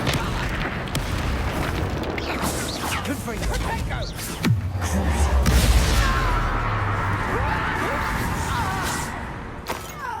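Bombarda and Confringo spells go off in the Hogwarts Legacy video game, a loud, continuous wash of blasts and crackling with a deep rumbling boom swelling in the middle and fading back into dense noise.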